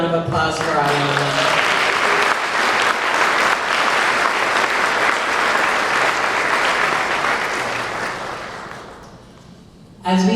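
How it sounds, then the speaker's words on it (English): A steady round of audience applause for Iona at a cultural honoring celebration, full and sustained for several seconds before tapering off toward the end. "Can we please have another round of applause for Iona?"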